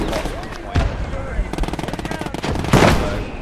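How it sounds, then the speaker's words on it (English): A .50 cal machine gun in the Gates of Hell: Ostfront war video game hammers out rapid, evenly spaced rounds in a sustained burst, amid heavier booms of battle and a voice speaking over the action. "That 50 cal is deadly"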